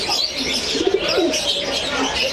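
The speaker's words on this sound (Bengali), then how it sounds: "এটা ভাই আপনার এটা কিং কবুতর, যা কি বলা হয় লাল কিং।" Red king pigeons coo in low, throaty bursts at a busy pigeon market, close by, with soft chirps and crowd murmur in the background.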